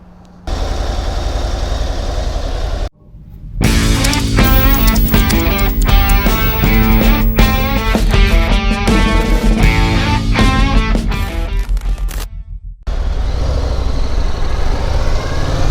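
A Harley-Davidson CVO Road Glide bagger motorcycle's engine rumbles loud and close on a test ride, with deep throbbing revs separated by a few short breaks and no talking.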